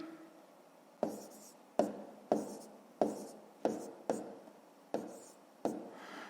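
Numbers are written by hand on paper during a maths exercise, with about nine sharp pen taps and short strokes in an irregular rhythm, close and faint, and no talk.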